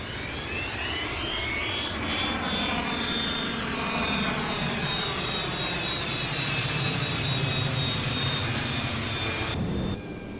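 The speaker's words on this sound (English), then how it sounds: "Alright, spool up the engines. Engines are stable and going to full." Jet engines of an airliner in the Flight Simulator X game spool up to full power, a loud continuous roar with a rising whine sweeping upward over about ten seconds, heard alone.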